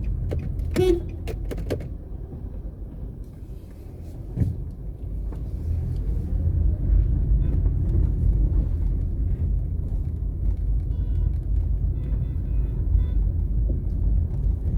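A car circles slowly around a Total gas station in May Pen, its engine and road noise making a steady, close rumble inside the cabin, with a brief clunk early on and no talking.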